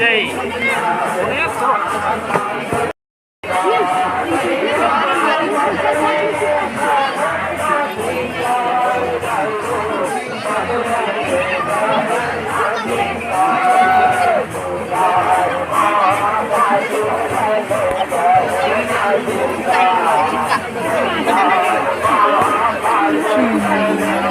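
Dense crowd chatter and babble at the packed Garjai Mata temple during the Panchami festival in Madanpur, Gariyaband, continuous and close with many overlapping voices and a brief dropout near the start.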